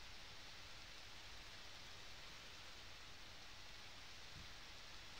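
Steady rain hisses on in Harvest Moon: Back to Nature, a soft, even wash of noise with no other sounds breaking through.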